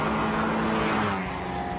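A Porsche 944 race car in the 944 Challenge at Sandown roars close past, its engine loud and steady before fading slightly at the end.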